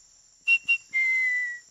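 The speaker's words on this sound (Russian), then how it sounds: "как же я могу отучиться, когда я не замечаю, как начинаю свистеть?" A cartoon character whistles a short tune: two quick chirped notes followed by one longer, sustained tone, clear and close with no other sounds.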